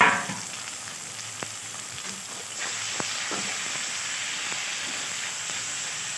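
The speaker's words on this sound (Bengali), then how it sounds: "এবার আমি ম্যারিনেট করা মাংসটা দিয়ে দিলাম।" Marinated mutton sizzling in a pot of fried onions, a loud hiss right after it goes in that settles into steady close frying with occasional crackles, no speech.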